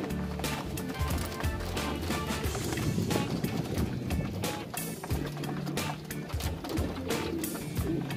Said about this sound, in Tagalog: kalapatids, gutom na gutom kasi nagpa low fly nga tayo kanina.